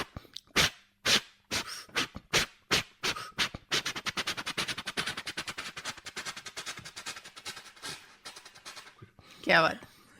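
A voice mimics a dog yelping and whimpering after being struck by a stone: sharp, evenly spaced yelps give way to a fast, stuttering run of cries, ending in one long rising whine.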